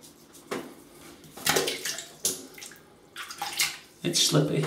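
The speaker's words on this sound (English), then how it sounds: "So I'm just going to wet my face a bit" Water splashing and dripping in a sink as a face is wetted before shaving, several short bursts with gaps between, close and fairly quiet.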